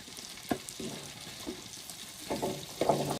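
Chicken pieces sizzle and pop as they fry in oil, with a few louder crackles and stirring sounds over a steady background hiss and no talking.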